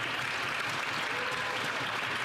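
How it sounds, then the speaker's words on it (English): Members of parliament in the Canadian House of Commons clap together, a dense, continuous wash of many hands from a large chamber, steady and even throughout with no distinct individual claps standing out. "It's the first time they've been clapping in a while."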